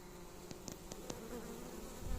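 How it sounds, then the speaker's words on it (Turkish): Honeybees buzz around outside a hive on a warm day, a steady low drone broken by a few brief louder passes as single bees fly close to the microphone. "arılar biraz havalar sıcak olduğu için dışarıda coştular"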